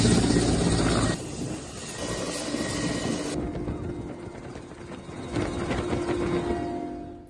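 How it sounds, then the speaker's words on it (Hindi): Rescue helicopters flying over an earthquake-hit area in Afghanistan, a loud steady rotor and engine roar that dips and surges, nearby and without speech. "रेस्क्यू के लिए हेलीकॉप्टर्स लगाए गए हैं"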